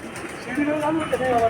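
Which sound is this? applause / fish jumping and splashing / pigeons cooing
pigeons cooing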